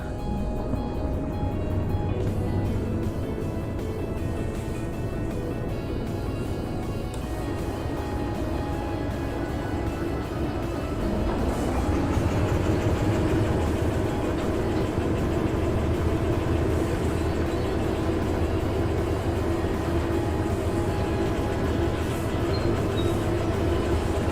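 Multiple locomotives running together in Derail Valley, a steady, loud rail rumble with a low engine drone and faint clickety-clack that swells slightly partway through and continues throughout.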